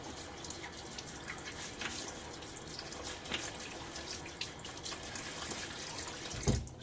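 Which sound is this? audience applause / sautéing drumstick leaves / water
water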